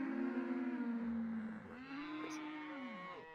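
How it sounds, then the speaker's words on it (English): A tied-up donkey lets out a long, drawn-out tonal call that wavers and dips in pitch, heard fairly close with a hoarse, moaning quality and no talking over it. "It's a donkey"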